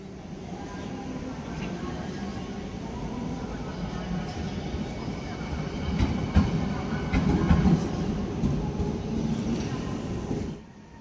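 A RegioJet night train hauled by a Bombardier TRAXX locomotive rolls into the station from the depot, a steady rumble of wheels and carriages with rail clatter swelling midway before dropping away at the end.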